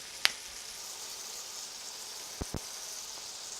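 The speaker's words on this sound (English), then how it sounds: "I'm gonna get that garlic going. And I'm gonna fry it" Hand-crushed garlic, peels still on, frying in a Lodge cast iron pan, giving off a steady, bright sizzle with a few small sharp pops and ticks, close and with no talk over it.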